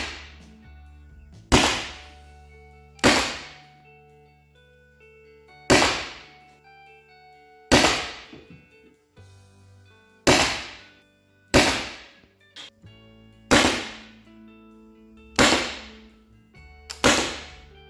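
An HDR 68 revolver firing RBI 68 rubber balls: ten sharp, loud single shots spaced evenly a second or two apart, each a crisp crack with a short ringing decay, and no talking.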